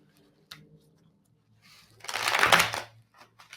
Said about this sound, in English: so I just want to shuffle.